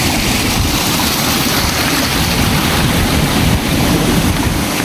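Bambi Falls, a mountain waterfall near Biao in Binalbagan, Negros Occidental, pours in a steady, loud, broadband roar of rushing water that fills the scene with no voices heard.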